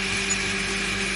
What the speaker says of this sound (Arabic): هنحضر المواد السائلة في الخلاط